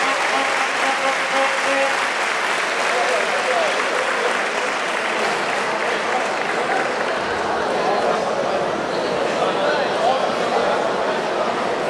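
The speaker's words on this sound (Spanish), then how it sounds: "Gracias por estos merecidísimos aplausos." A crowd's sustained, dense applause after a live music performance by a Galician folk group, loud and steady from start to finish without a break.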